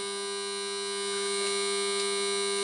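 A washing machine runs at speed with a steady mechanical whine and a strong, even hum. It is close and fairly loud, and no one speaks over it.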